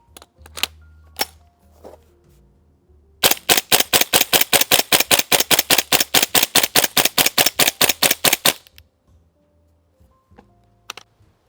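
A G&G gas-powered airsoft gun fires a few separate shots, then empties a magazine in a fast, even string of about thirty sharp cracks over five seconds, followed by a couple of stray clicks nearby.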